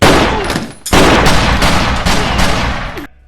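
Pistol gunfire in a gangster film cracks loudly in rapid bursts of several shots, with a brief gap between volleys before the last one cuts off abruptly.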